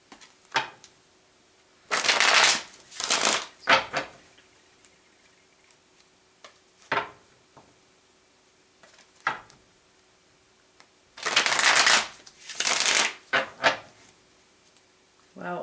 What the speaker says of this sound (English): So we're going to grab three quick shuffles here.